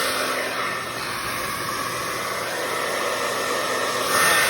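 A steady, loud rush of air from a blower pushes acrylic paint across a Dutch pour, a continuous hiss that swells slightly near the end with no talking.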